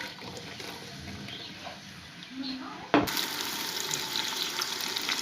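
Onions frying in about half a kilo of oil, a moderate crackling sizzle that jumps sharply louder midway as more onion drops into the hot oil, then continues as a bright steady hiss.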